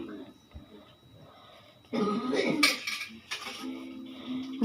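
Clinking of cutlery against a plate while someone sits down to eat home-cooked meat biryani, with a few scrapes and taps, soft background talk and a throat clear.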